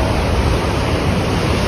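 Waves crash against coastal rocks on the Spanish coast, a loud, continuous wash of surf that fills the whole short stretch with no voices.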